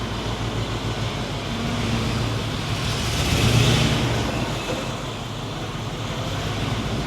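A truck engine rumbles steadily as it drives into a pole barn through a 14-foot garage door, the broadband motor noise swelling slightly as it comes closer, then holding at a constant level.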